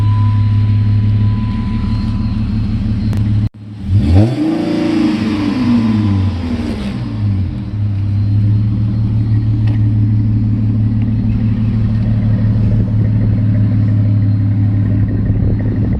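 A Dodge Challenger with dual exhaust idles with a deep rumble, then revs sharply once with a rising and falling roar before settling back to a steady throaty idle.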